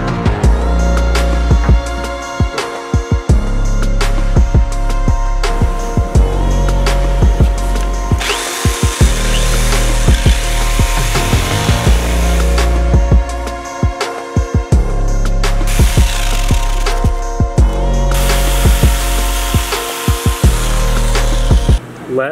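Power tools cut small squares out of wood window trim in a bus conversion, a loud, close, continuous whine broken by short stops and restarts, with occasional muffled talk.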